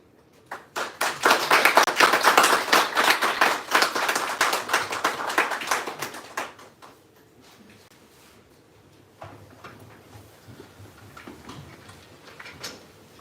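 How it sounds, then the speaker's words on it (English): Enthusiastic applause from a crowd, loud and dense for about six seconds, then fading to a few scattered claps and quiet room noise. "Applause for this."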